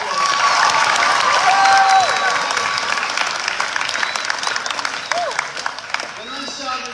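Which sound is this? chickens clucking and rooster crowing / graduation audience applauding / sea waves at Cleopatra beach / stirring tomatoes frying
graduation audience applauding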